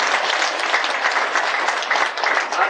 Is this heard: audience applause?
yes